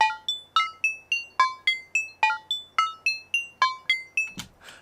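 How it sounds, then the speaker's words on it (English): A lead synth melody built in Native Instruments Razor, bright plucky bell-like notes in a quick, even rhythm, each note decaying fast. A brief noisy burst ends the phrase. "Alright, here's the lead synth."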